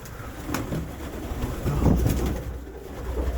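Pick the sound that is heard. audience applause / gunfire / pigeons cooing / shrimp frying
pigeons cooing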